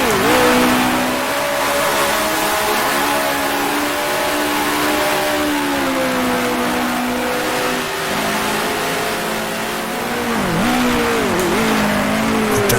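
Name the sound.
1966 F1 car engine revving to the rev limiter, video game Grand Prix Legends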